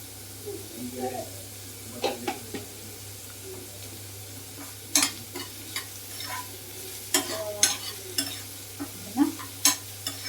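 Onions and cucumber fry in a pan with a soft hiss while a spatula scrapes and stirs in irregular bursts, and a voice speaks quietly between the scrapes.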